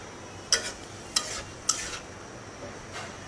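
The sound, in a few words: stirring bitter gourd fry ingredients in mustard oil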